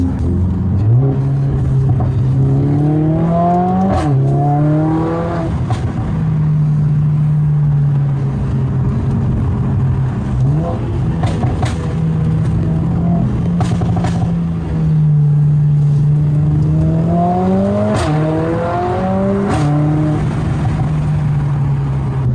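A Mercedes-AMG A45 S with an aftermarket exhaust revs up and settles back to idle several times, the exhaust note rising and falling in repeated surges, loud and close.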